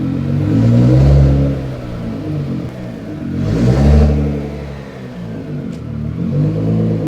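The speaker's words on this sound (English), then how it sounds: "let's get this car parked first" Nissan GT-R R35 widebody being maneuvered into a parking spot, its engine heard close up with two swelling revs over a rough, rumbling idle and nobody speaking.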